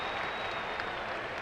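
A baseball crowd at a playoff game roars in a broad, sustained wash of cheering and noise after an umpire's call, loud and steady throughout with no distinct voices standing out.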